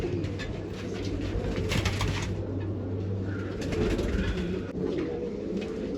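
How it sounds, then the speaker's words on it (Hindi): Indian-breed pigeons coo repeatedly over a constant low hum and background noise, the soft rolling calls blending into a busy, steady ambience. "अच्छे अच्छे कबूतर।"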